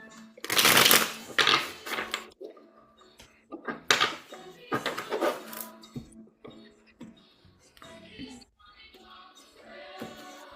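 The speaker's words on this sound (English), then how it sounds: "Go ahead, I'm still shuffling." Tarot cards are shuffled in loud riffling bursts close by, then quieter taps and slides of the deck, with a voice talking in between.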